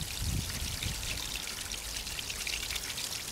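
Water is poured onto a compost heap as a steady, soft rushing and splashing that runs through the whole moment at moderate loudness, with no talking.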